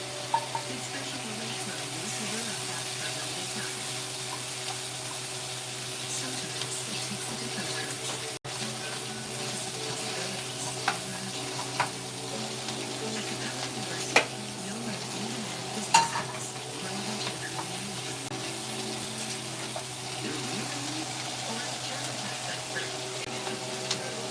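Onions sizzle steadily in a hot pan while a utensil stirs them now and then, a constant frying hiss with a few sharp clinks, close up and with no talking.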